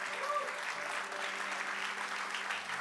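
A church congregation claps steadily and evenly, a dense wash of applause at moderate distance that holds for several seconds without voices.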